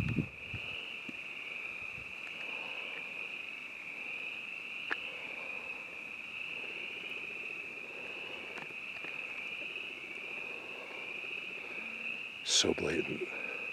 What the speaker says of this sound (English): I think those are frogs.